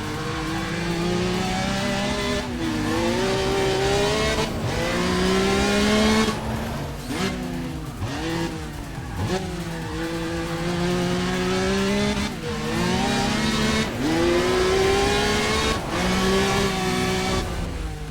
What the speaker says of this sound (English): My car sounds better between us two.